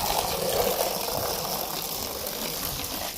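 A pressure washer rinses house siding with a steady, close hiss of spraying water, broad and unbroken for the few seconds, with no voices.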